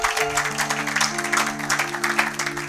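A church congregation claps in dense, continuous applause, with a sustained organ chord holding underneath.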